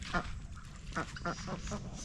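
Ducks quack at a newly built backyard pond beside fresh pasture, giving several short, nasal calls at irregular intervals over a steady low outdoor rumble.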